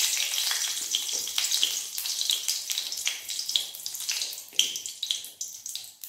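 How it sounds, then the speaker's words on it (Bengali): Two dried red chillies sizzling in hot oil in a wok after eggs were fried, a bright steady crackle with brief spitting bursts and occasional stirring scrapes, close and unaccompanied by talk. "তেলের মধ্যে দিয়ে দেবো দুটো শুকনো লঙ্কা।"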